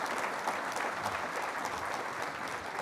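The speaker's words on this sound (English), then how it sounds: "I'd like to ask everyone to give a big round of applause to Minister Kono Taro." A conference audience applauds steadily, a dense wash of clapping at moderate volume with no voices standing out.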